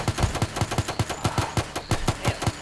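Rapid automatic rifle fire in a video game, a steady burst of about a dozen evenly spaced, punchy shots, close and loud with no talking over it.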